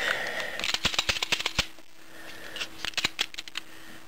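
A Glock pistol is safety cleared with a string of sharp mechanical clicks and clacks from the slide and magazine, close up, in irregular bursts with a short quiet gap between them.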